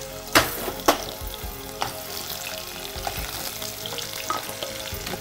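Onion pieces frying in a pan with whole spices for a capsicum egg curry, a continuous hissing sizzle marked by a couple of sharp utensil knocks early on and light stirring scrapes, no voices.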